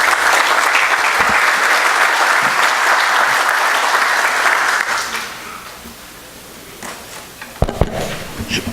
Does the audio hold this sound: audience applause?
yes